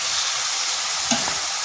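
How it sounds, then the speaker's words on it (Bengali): Mashed boiled potato is mixed with spices in a hot pan, a brief close sizzle with soft stirring and one small scrape. "এরপর ভালো করে এই মশলার সাথে মিশিয়ে নিচ্ছি।"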